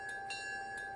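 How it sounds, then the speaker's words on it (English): A locomotive bell in the train game Railroader rings in a steady sustained tone with a few brighter strikes repeating about twice per second, clear and alone. "We have a bell."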